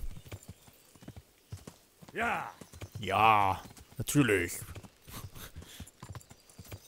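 Horse hoofbeats clip-clop in the medieval video game Kingdom Come Deliverance, a quick patter running through the scene beneath short bursts of a voice and game sounds.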